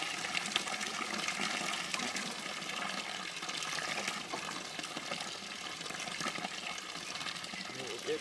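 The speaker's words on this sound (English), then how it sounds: "We'll let the rest of this drain out quick." Water draining out of a barrel set up for a fall fishing competition, a steady close gushing and splashing flow that continues throughout with little change in level.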